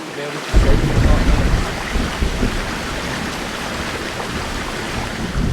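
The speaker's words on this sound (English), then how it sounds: "this thunder is picking up" Thunder rumbles through a storm over the UK moors during wild camping, a deep continuous roll mixed with the steady hiss of heavy rain, loud and close after a brief quiet start.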